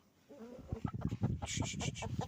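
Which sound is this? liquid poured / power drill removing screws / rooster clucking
rooster clucking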